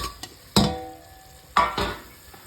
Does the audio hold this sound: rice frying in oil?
yes